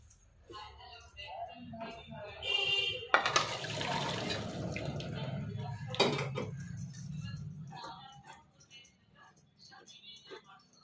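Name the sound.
water being drained from boiled cauliflower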